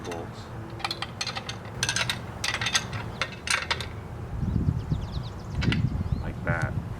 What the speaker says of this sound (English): I think I'll set it up about that high and tighten the bolts.